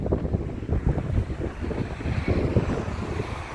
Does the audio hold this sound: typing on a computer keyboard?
no